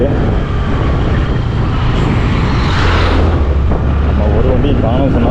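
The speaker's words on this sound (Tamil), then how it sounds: "ஒரு லாரி வருது." A lorry on the Sathyamangalam tiger reserve forest road between Germalam and Gettesal approaches with a steady low engine rumble that swells gradually, with a voice talking over it.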